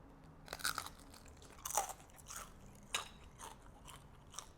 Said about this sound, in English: Let's do a crunch test.